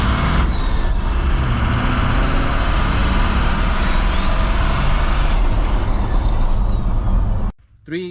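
A Ford 6.0 Powerstroke diesel fitted with triple VGT turbos roars loudly at high revs, with a rising turbo whistle. The engine then drops off abruptly near the end, leaving a short burst of residual noise.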